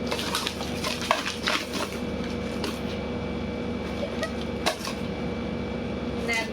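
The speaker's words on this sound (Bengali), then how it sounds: "এখন এখানে সব ব্যাগ সব ঢেলা দিলাম" Shopping items tumble out of bags onto a surface in a close, busy clatter of knocks, rattles and rustling, with a few louder bumps as heavier pieces land.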